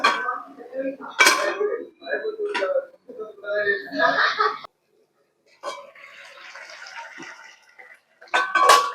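Carrot halwa being stirred in a pan, with a series of loud scraping and clinking utensil strokes in irregular bursts, separated by brief pauses and softer rustling.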